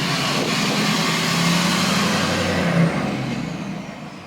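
Ford 6.0 Powerstroke diesel truck engine revving, a loud continuous roar that swells briefly before tapering off, with no talk over it.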